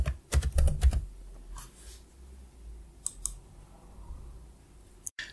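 A sudo password is typed on a computer keyboard during a USB restore: a quick cluster of loud key clicks, then a few scattered taps and a final keypress in an otherwise quiet room.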